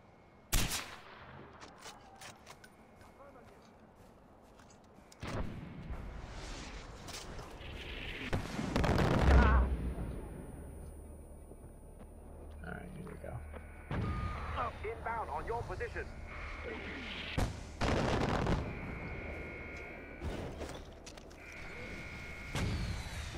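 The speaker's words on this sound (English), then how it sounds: "Now I'm panic shooting again." Bursts of Far Cry 4 gunfire ring out repeatedly in rapid volleys, some loud and close, others distant, mixed with game sounds and a player talking in between.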